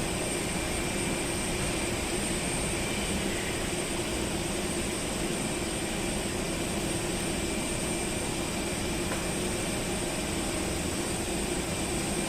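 A toy airplane playset's electronic engine sound effect: a constant broadband roar like a jet airplane idling or taxiing, steady and loud for the whole stretch with no voices.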